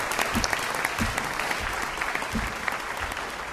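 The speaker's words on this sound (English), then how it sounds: "Let's give them a big round of applause." Steady applause from an audience at a Los Angeles Conservancy panel event, a dense patter of many hands clapping at even loudness throughout, fairly distant and without voices over it.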